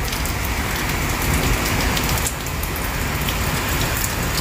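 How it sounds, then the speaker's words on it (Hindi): Heavy rain pours steadily, a dense constant hiss of drops hitting surfaces close by, with no voices and no letup throughout. "और बहुत ज़्यादा बारिश हो रही है"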